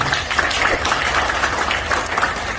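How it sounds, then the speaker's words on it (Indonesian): An indoor audience at a community gathering applauds, a dense, steady wash of clapping from many hands throughout. "Tepuk tangan untuk komunitas ini."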